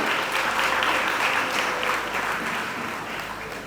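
An audience applauds two actors at a Malayalam film event, a steady, dense clapping that stays loud and even for the whole stretch, with no talk over it.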